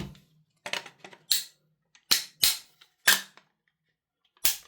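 A bolt is worked and snapped back into a Noveske Ghetto Blaster rifle, giving a series of sharp metallic clicks and clacks, close and crisp, separated by short silences.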